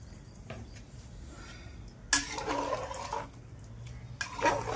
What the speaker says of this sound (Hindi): अब पानी डाल दिए